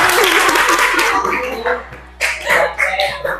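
A class of students claps for a classmate during a teaching practice lesson, a fairly close burst of hand claps that thins out midway, then returns in a few shorter rounds.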